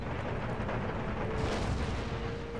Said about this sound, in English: artillery's blowing the hell out of this supporting unit